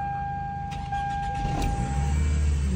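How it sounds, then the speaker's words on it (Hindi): A Toyota Camry engine cranks and catches after an ECM repair, a thin electrical whine over a low rumble that swells into a steadier, louder idle near the end. "सर, मेरी गाड़ी स्टार्ट हो गई"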